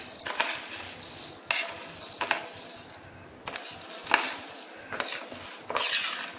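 Dry lentils tumble into a mixer-grinder jar while flax seed idli podi is prepared. They land in several short rattling bursts of hard grains striking the jar, close and fairly clear, with no talking.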